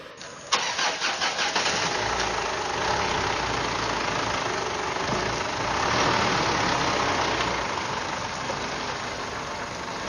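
A lorry engine cranks with quick repeated turns, catches, and settles into a loud, steady mid-pitched running drone close by, heard on its own without voices.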